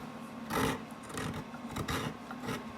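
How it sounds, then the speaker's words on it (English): Hand sanding of a wooden P-Bass guitar body being shaped from scratch, a close, raspy rubbing in several short back-and-forth strokes, with no talking. "sometimes just sanding like this can help you feel and see where you need to do more carving"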